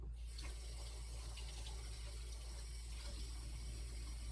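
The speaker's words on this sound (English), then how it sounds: "Rinse my hands real quick." A kitchen tap runs steadily while hands are rinsed under the stream, a continuous close splashing wash with no talking.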